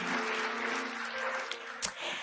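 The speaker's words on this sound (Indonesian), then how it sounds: "Yuk kita kasih tepuk tangan yuk buat Tuhan kita Yesus Kristus." Applause from a church congregation at a Sunday service fills the space, steady and fairly dense, with a brief sharp clap or knock near the end.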